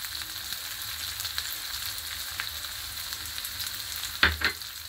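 Turmeric tipped into hot oil in a pan for a prawn and ridge gourd dish, giving a steady low sizzle with a brief louder burst of spattering near the end.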